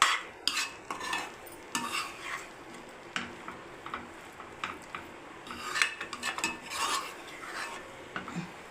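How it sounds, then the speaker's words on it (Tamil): Bread egg kothu chopped and stirred in a pan, irregular metallic scraping and clattering strokes of a spatula against the pan, fairly faint and close, with no speech. "நல்லா அடி வந்து இப்படி கலரி விடுங்க"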